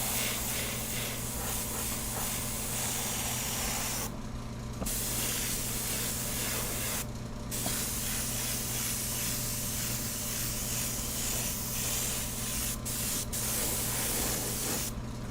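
Liquid Kicks topcoat sealer sprayed onto a finished product, a loud continuous hissing spray with two brief pauses partway through and a couple of short taps near the end.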